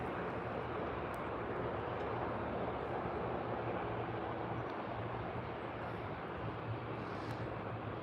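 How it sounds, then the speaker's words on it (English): A WestJet Boeing 737 landing at Calgary airport, a steady broad jet roar with low rumble held at even loudness throughout, heard from a distance without any talking. "A 737 West Jet."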